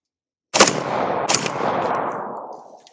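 AR-15 rifle with a forced reset trigger firing on semi, two sharp close reports about 0.8 seconds apart, each ringing out into a long decaying echo.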